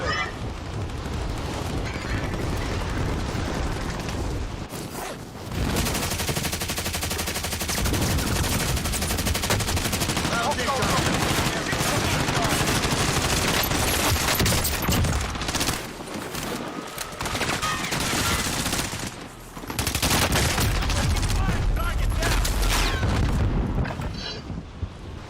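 Dense, continuous gunfire and explosions from a Call of Duty style military shooter video game, loud bursts rolling almost without pause, with brief dips before the barrage resumes.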